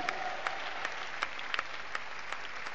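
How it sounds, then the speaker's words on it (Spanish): Applause from a church congregation during a Spanish-language evangelical sermon, a steady wash of clapping with a few sharper claps standing out, moderately distant and continuous throughout. "Un aplauso grande para el que vive."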